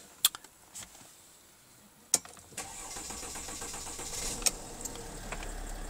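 A Mercedes E320 CDI diesel with a 7G automatic cranks and fires, a few sharp clicks and thumps followed by a steady low idle rumble that settles in nearby.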